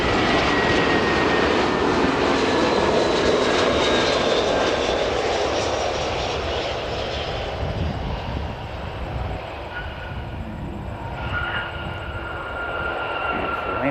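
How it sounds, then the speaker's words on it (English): An Air New Zealand airliner lands at an airport, a loud broad roar of engines and rushing air that slowly tapers as the aircraft rolls out, with a faint high whine lingering near the end. "Beautiful landing. You wouldn't expect anything less from Air New Zealand."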